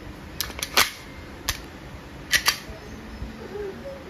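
An Umarex Glock 19X Coyote CO2 airgun pistol shooting 4.5mm steel BBs gives several sharp snapping shots, spaced irregularly with two quick pairs, close by and without talk.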